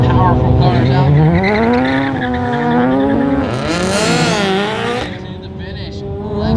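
Autocross cars, a Honda Civic and a Mazda Miata, revving hard and launching with rising and falling engine tones and tire noise, loud and close, while an announcer talks over them.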